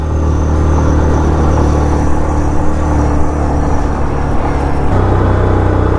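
A 2020 Yamaha Kodiak 450 EPS SE ATV riding soft sugar-sand trails through S turns, its engine a loud, close, steady droning rumble with a pitch shift near the end as the throttle changes.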